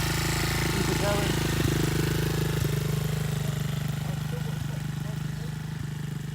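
Demon DXR 125 pit bike engine running steadily as the clutch is let out and the bike pulls away, a close, continuous low engine drone with a few faint clicks and no talk over it.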